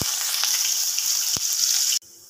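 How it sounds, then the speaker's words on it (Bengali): Onions frying in sunflower oil in a wok for restaurant-style veg hakka noodles, a loud continuous hiss with a few sharp pops, cutting off abruptly near the end. "পেঁয়াজটা এবার একটু ভাজা হোক।"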